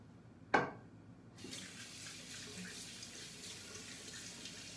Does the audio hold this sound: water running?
yes